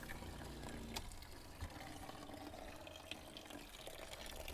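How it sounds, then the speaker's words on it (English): Water trickles steadily from a breather hose into a bucket at an overland vehicle's drinking water system, a faint, continuous splashing with a few small knocks. "now we've got water starting to come out the breather hose."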